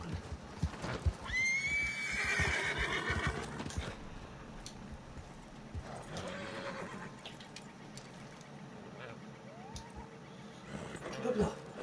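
Horse neighing in the video game Red Dead Online, a loud whinny followed by clip-clopping hooves and fainter snorts, with a person talking over parts of it.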